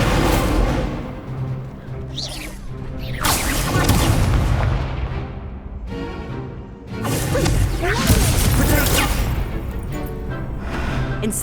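Incendio fire spell cast in Hogwarts Legacy, heard as two loud, sustained whooshing, booming bursts of flame several seconds apart over a constant game backdrop.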